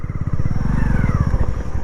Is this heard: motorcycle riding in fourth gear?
yes